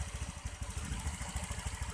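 A Honda Vario 125 motorcycle idles steadily with an even low pulsing putter, close and alone.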